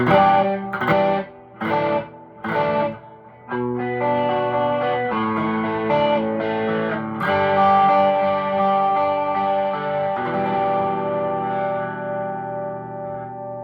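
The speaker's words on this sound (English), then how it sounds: "if you're going to get a drive pedal, I'd say this ODR is the one to get" Distorted electric guitar through an ODR overdrive pedal: a few choppy chords, then sustained overdriven notes ringing out with a gritty, saturated tone.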